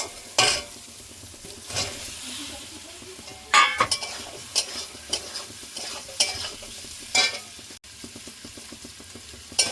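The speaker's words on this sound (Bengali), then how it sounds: "দেখুন পোস্তর সঙ্গে আলুটা সুন্দর করে ভেজে নিয়েছি" Boiled potatoes frying in a pan with poppy seeds for aloo posto, a low continuous sizzle broken by repeated spoon stirs and scrapes against the pan at irregular intervals, close and clear with no talking.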